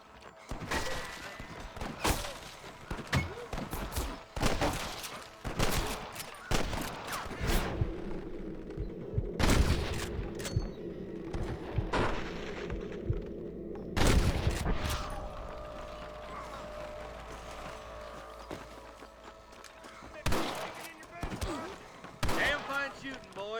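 Shootout gunfire in Red Dead Redemption: sharp, loud rifle and pistol shots crack irregularly, some close and some farther off, over ambient game sounds and mechanical clatter.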